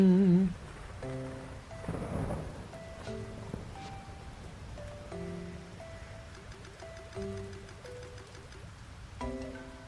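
Rain falls in the Chibi-Robo video game, a soft continuous hiss running beneath a gentle melodic game tune of short plucked notes, with a brief swell of noisier rain early on.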